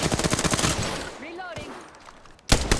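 Rapid automatic gunfire in Apex Legends, a loud burst that fades into quieter game noises, then a sharp new burst of shots at the end.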